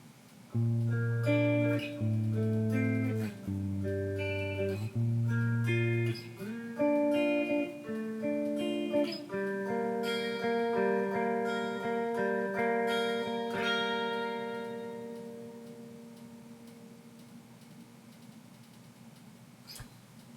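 An acoustic guitar plays a section of a song, with picked notes moving up and down before strummed chords ring out and fade, loud and close with no talking.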